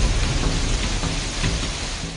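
Hailstones pelting down in a sudden hailstorm after rain in Kaushambi, Uttar Pradesh, a dense, steady roar of hard impacts filling the scene loudly and continuously with no voices.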